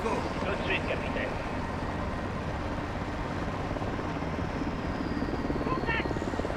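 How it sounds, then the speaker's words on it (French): A helicopter in Call of Duty: Modern Warfare 2 on PS5 gives a continuous, steady rotor drone from start to finish. Voices speak over it at moments. "Nikolai, bloquez avec l'hélico."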